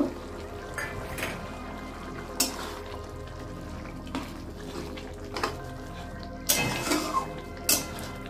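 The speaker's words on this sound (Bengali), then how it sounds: "এবার আমি চিংড়ি মাছগুলো এর মধ্যে দিয়ে দেব।" Prawns go into a pot of boiled potatoes in a Bengali prawn coconut sesame poppy curry, with metal clinks and scrapes of a spoon against the pot and several sharp knocks, close and moderately loud, with no talking.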